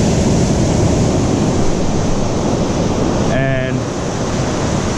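Ocean surf washing steadily onto a beach where someone is surf fishing, a dense continuous roar with wind buffeting the microphone and a brief tonal sound near the end.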